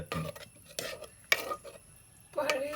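Fish curry being stirred in a clay pot with a small spoon, a few short scraping and clinking strokes separated by pauses, close and fairly quiet with a light simmer underneath.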